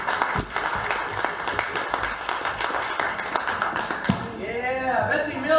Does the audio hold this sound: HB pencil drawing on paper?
no